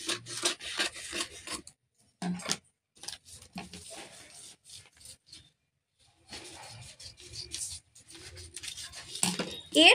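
Scissors cutting trouser fabric to size make close, rasping snips and rubbing strokes in uneven bursts separated by short pauses.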